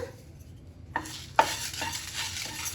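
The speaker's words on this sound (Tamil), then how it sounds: "போட்டுட்டு நல்லா வறுத்துக்கோங்க" Toor dal, rice and dried red chillies dry roasting in a pan, with a couple of sharp clinks and a soft, dry rustle of stirring and no oil sizzle.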